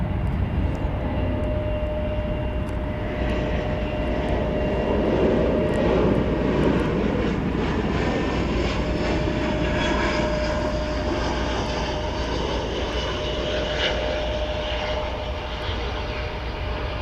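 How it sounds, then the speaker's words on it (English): An American Airlines Airbus A321 arrives at DFW through murky weather, heard from Founders Plaza as a loud, steady jet roar that swells gradually and holds for the full span with little talk. "It's American Airlines. We're here at Founders Plaza. This is an Airbus A321, if we can see it coming through the murk."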